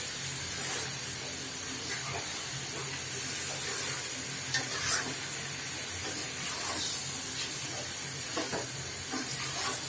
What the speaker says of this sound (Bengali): ভালোভাবে উপকরণগুলি মেশাতে হবে, যেন প্রত্যেকটা মাংসের সাথে উপকরণগুলি মিশে যায়